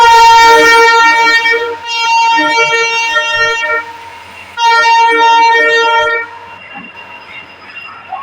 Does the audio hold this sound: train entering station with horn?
yes